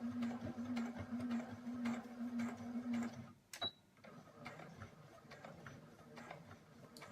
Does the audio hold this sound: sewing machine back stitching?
yes